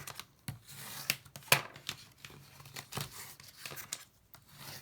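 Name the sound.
folding and burnishing scored laminated card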